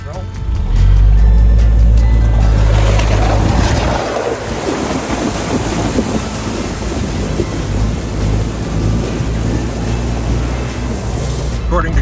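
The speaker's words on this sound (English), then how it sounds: "this is our 3rd or 4th river crossing" An off-road vehicle fords a river on a Costa Rica backroad, with a loud low rumble and steady water rush and splashing throughout, under wind noise.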